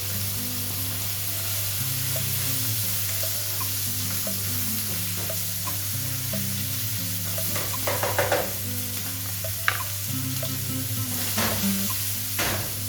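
Goat kidneys sizzle in a pan with browning onions, a loud steady frying hiss close by with a few utensil scrapes and clatters in the later part.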